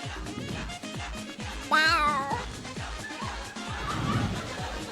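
A cat gives a wavering, drawn-out meow amid rhythmic thumping and background chatter, with a softer call following.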